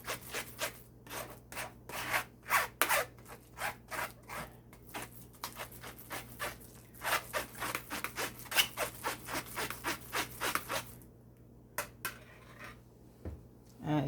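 Cranberry sauce being scraped down while making jelly, heard as a rapid series of close, rasping scraping strokes in a quick uneven rhythm, pausing briefly before a few final scrapes.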